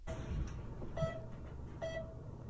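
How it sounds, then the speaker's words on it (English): Three short electronic beeps at a steady pace, about one second apart, over a quiet low hum. "Listen to the beeping."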